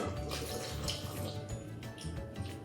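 Water pours steadily into a Thermomix bowl while moi moi is being prepared, giving a continuous close splashing trickle with small bubbling variations.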